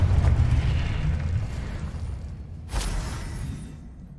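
In Hogwarts Legacy, a Confringo blasting spell goes off in a deep, rumbling explosion that trails away, with a second smaller blast partway through, no voices.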